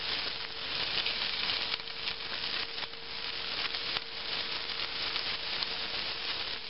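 Carrots stir-fry in a pot with a steady, close, continuous sizzle and faint crackles. No one speaks.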